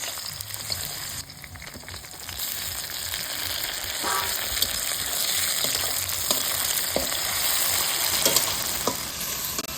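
Onion with chopped tomato fries in a pan, a close, steady crackling sizzle that swells slightly midway, dotted with light stirring taps.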